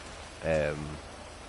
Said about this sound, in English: we're in a situation where it's just started raining